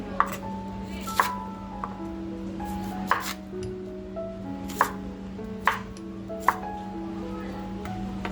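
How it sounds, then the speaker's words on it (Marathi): A knife chops spring onion into thick pieces on a board, roughly seven sharp, evenly spaced cuts over a steady low hum, close and clear with no talk. "अगदी जाडसर कांदा कापून घेते"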